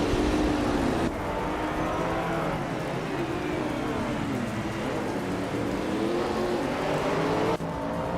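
AI-driven race cars roar and rev in a racing video game, a dense layered engine wash with cars sweeping past, loud and sustained throughout.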